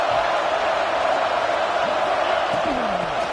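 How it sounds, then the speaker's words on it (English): Dense crowd noise fills a football stadium early in an Ohio State game, a steady loud roar with scattered shouts and whoops throughout, no clear peaks. "It's early, but this crowd is fired up. Listen to this noise here."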